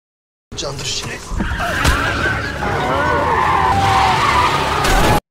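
Car skidding and swerving with screeching tires, a loud continuous squeal sliding in pitch over rumbling engine noise, with a dramatic film soundtrack and voices mixed in.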